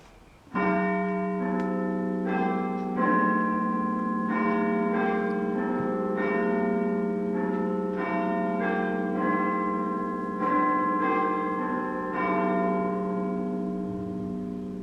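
A large clock tower bell, in service for some 150 years, chimes the hour with a series of loud, ringing strikes that overlap and sustain, each new stroke landing over the lingering hum of the last.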